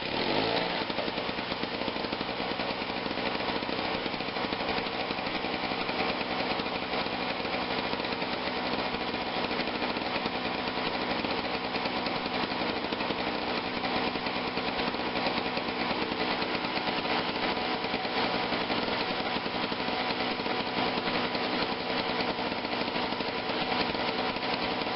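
Craftsman 21-inch 5 hp two-cycle snowblower engine running steadily after a pull start, a loud, close, continuous buzzing drone lasting the whole stretch with no talk.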